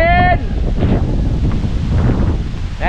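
Strong wind gusts buffet the microphone outdoors in a loud, continuous rush, with a brief tonal sound at the very start and faint voices underneath.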